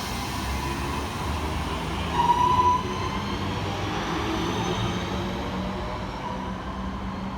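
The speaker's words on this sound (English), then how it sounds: "Flying through the station for TransPennine Express is 802-206, working 1K26 from Hull through to Liverpool Lime Street." A TransPennine Express Class 802 train runs through a station without stopping, producing a loud, continuous roar of wheels and motion with a brief high squeal midway, then remains steady.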